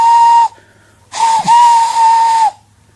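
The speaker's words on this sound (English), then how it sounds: "Everyone knew that whistle" A steam train's whistle blows two loud, sustained steady blasts, the first short and the second longer, with a brief quiet gap between them and no one talking.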